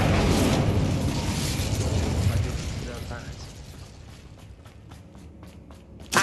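Incendio fire spell cast in Hogwarts Legacy: a loud rushing burst of flame at the start that gradually fades, followed by quieter mechanical clicks and footsteps, with a sharp hit at the very end and faint voices.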